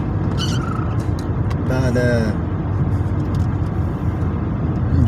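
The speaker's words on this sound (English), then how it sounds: "I'm driving home" A car drives along the road with a continuous low rumble of engine and tires from inside the cabin, while a voice speaks briefly over it.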